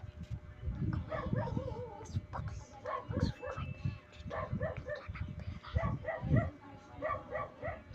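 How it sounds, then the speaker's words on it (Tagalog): Dog barking repeatedly nearby, mixed with a busy, noisy background and voices. "medyo maingay. May aso."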